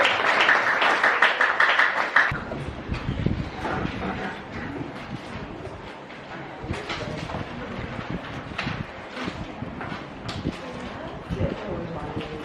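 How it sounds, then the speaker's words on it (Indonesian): Children in a classroom break into applause, scattered claps that are uneven and fairly close, mixed with chatter and voices throughout. "Mari tepuk tangan."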